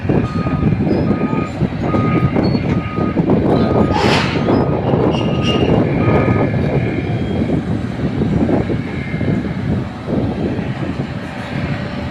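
A boom truck at a railway construction site sounds repeated reversing beeps over a loud, steady engine rumble and heavy outdoor machinery noise.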